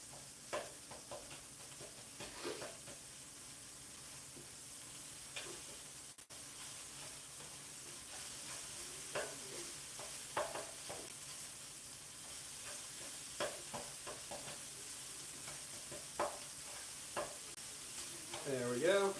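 Sausage and vegetables frying in an electric skillet in a hotel room, a steady low sizzle with scattered scrapes and knocks from stirring, which grow louder toward the end.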